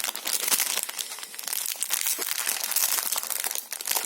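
A plastic-wrapped pack of ribbon sets is opened up close, with continuous loud crinkling and crackling of the wrapper and brief tearing sounds throughout.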